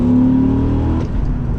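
A Dodge Ram SRT-10 pickup with a manual gearbox, its big engine roaring loud and close from the cabin, a steady high drone that drops and shifts partway through as the gear changes.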